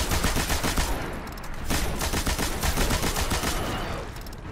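Rapid automatic machine-gun fire from a newly acquired low-recoil weapon in the Destiny shooter game, a dense continuous rattle of shots lasting the whole stretch with only brief dips, loud and close.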